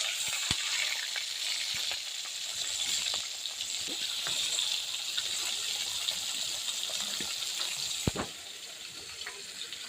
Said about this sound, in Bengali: এখানে মাছ ভাজা আমার প্রায় অলরেডি ডান